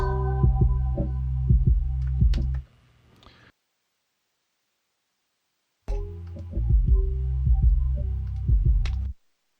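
A synthesized noise effect run through a flanger and Abbey Road reverb: two loud bursts of low, throbbing pulses with sharp clicks and a sweeping, tonal texture, separated by a gap of near silence.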